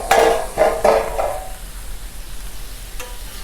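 Kebabs on a Blackstone griddle give a few sharp metal scrapes and clanks from a spatula, then a soft, steady sizzle underneath and one more light tap near the end.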